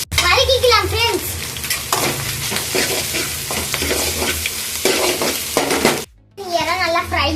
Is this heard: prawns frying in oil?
yes